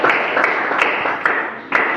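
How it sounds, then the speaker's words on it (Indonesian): A classroom audience of students gives a short burst of hand clapping, close and fairly loud, lasting about two seconds with uneven, overlapping claps. "mari kita berikan aplaus"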